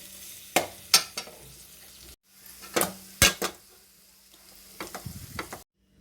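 Beans with chili and turmeric powder are stirred in a pan, loud metallic scrapes and clanks of the spoon coming in bursts over a faint low sizzle, broken by brief pauses, with no voices.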